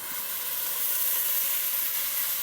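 Chicken and broccoli stir-fry sizzles steadily under a lid in a wok, a close, even hiss of steam and frying with no voices.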